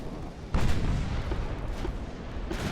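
Deep booming naval gunfire from 9-inch guns in Ultimate Admiral: Dreadnoughts, a battleship engagement involving HMS Lord Nelson: a few loud, rumbling shots spaced roughly a second apart over a constant low battle roar.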